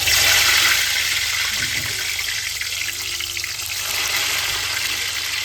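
Stuffed bitter gourd fries in hot oil, giving a steady, loud, hissing sizzle that holds evenly throughout with no voices.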